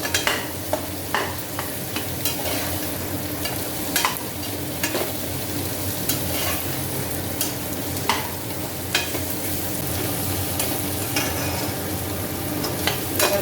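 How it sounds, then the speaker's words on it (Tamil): Carrots, beans and other vegetables sautéed in a pan for vegetable biryani, a continuous close sizzle broken by repeated sharp spatula scrapes and taps at an irregular rhythm. "எல்லாம் வதங்கிடுது ரொம்ப வதக்கணும்னு வேண்டிய லேசாக வதங்கினா போதும்"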